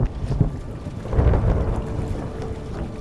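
Thunder rolls during a storm out on the open sea, a deep, heavy rumble swelling midway amid rain and wind buffeting, with no voices.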